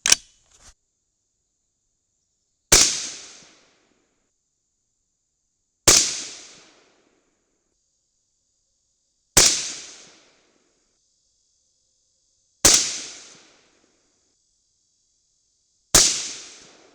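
.223 rifle shots fired with H322 powder loads: five sharp, loud reports spaced about three seconds apart, each with a short decaying tail, alone outdoors with no talk.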